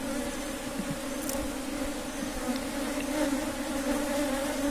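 Honey bee swarm buzzing at the hive, a steady dense hum of many bees close by with occasional louder passes, with no talk.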